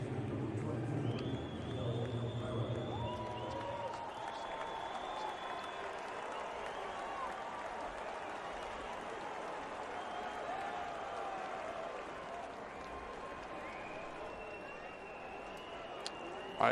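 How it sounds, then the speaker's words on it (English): Baseball stadium crowd at a Tigers vs Blue Jays game applauding and cheering in a sustained, loud wash of clapping and voices that holds steady throughout, with a brief whistle near the end. "Let's hear what the crowd thinks after Cabrera just reached history."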